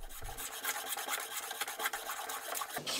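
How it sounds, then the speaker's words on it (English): A hand plane works across a wooden timber post for an awning frame, giving a steady, close rasping scrape in rapid repeated strokes with no talking. "So I have to finish off the cut with a little bit of hand planing."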